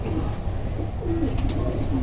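Silver pigeons of a white tiger line coo in a home loft, sending out low, soft, repeated cooing calls over a dense background murmur of other birds.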